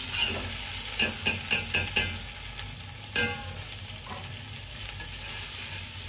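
Soaked, drained rice stirred into frying spiced masala for tehari, with a quick run of scraping stirs over a steady close sizzle, then another stroke or two as the frying hiss carries on.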